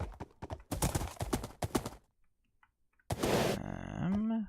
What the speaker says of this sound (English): We can just ride our horse right on up here.